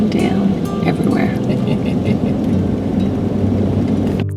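Water pouring and splashing down the Weeping Wall cliffs in Glacier National Park, a steady broad rain-like rush close by with passing road traffic mixed in and a voice speaking briefly over it.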